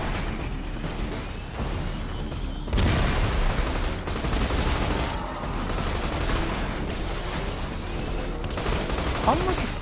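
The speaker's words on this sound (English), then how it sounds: "How much fucking missiles does it take to blow that bitch up?" Missiles fire and explosions boom in the Borderlands video game, a dense, loud barrage of blasts and rumbling impacts continuing throughout with a sharp pop near the end.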